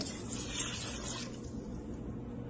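Water being poured into a one-pot mushroom biryani after salt has been stirred in, a steady close splashing and trickling that runs throughout and softens slightly toward the end.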